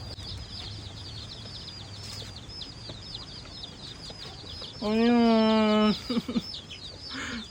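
Baby chicks kept in a backyard pen give high, repeated peeping chirps throughout, with a louder burst of fowl-like calling near the end and a voice speaking briefly.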